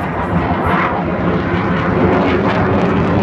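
A MiG-29 fighter jet performs in a Bulgarian aviation air show dogfight display, its engine roar loud and close, swelling and surging continuously overhead.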